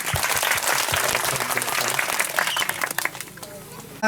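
A crowd at a church Christmas gathering in the Ngaphe/Minhla area claps in sustained applause, dense and loud at first, then thinning toward the end, with voices mixed in.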